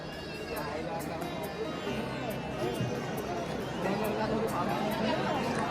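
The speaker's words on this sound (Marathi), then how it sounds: "गर्दी बघा आज संडेची" A dense Sunday crowd of devotees at the Ekvira temple fills the air with steady chatter and babble. A nearby voice talks over the murmur, and faint sharp clicks sound in the background.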